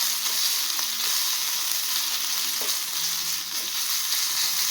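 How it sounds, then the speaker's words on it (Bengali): Ginger frying in a pan for a prawn malai curry, a constant loud hiss of hot oil with a couple of soft stirring scrapes, close by and with no talking. "হালকা করে আদাটা দিয়ে একটু নেড়ে নেব।"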